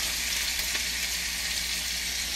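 Onion frying in a pan after garlic, a strong steady sizzle with dense hiss, close and continuous, for a curry served with fried Indian bread.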